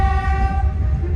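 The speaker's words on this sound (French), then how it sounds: "Ah, au moins on entend le klaxon." Steam horn of the historic Train 1900 at an open-doors event, a steady sustained blast with strong harmonic tones held through the whole moment over low rumbling background.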